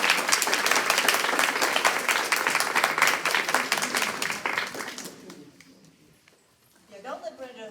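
Sustained audience applause at a reproductive healthcare education forum, dense steady clapping from a crowd for about five seconds before fading, followed by a voice speaking.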